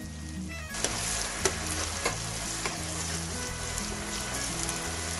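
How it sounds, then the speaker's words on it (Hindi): Onion paste fries in a pan for Lahori-style chikar cholay, a loud close sizzle with steady crackle and a few sharp clinks as it is stirred. "प्याज के पेस्ट को अच्छी तरह से भूनना है ताकि ये हाफ ब्राउन हो जाए।"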